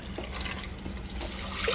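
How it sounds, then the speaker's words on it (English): Tap water runs steadily into a cooking pot for a simple vegan bean meal, a continuous close splashing and filling sound with no talking. "Let's put some water in there"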